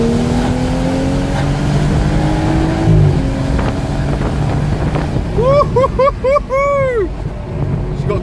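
A loud BMW engine and exhaust rev hard while accelerating, with the pitch climbing and then dipping in a quick series of surges. Heavy wind buffeting runs throughout.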